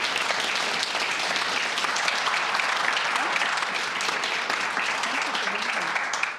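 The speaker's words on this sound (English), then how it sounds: "How about a round of applause for our special guest this evening?" An evening community-forum audience gives a sustained round of applause for a guest, dense and even clapping that holds steady at moderate loudness throughout.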